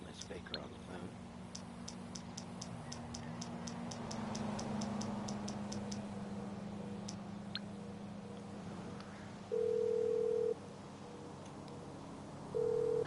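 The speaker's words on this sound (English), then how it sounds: "You need to call Miss Baker on the phone." A phone call in GTA 5 rings out with two long, steady electronic tones separated by a pause, over game background noise and someone speaking.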